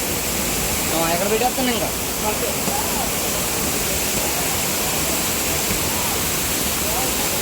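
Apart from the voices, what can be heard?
Bahubali waterfall flowing water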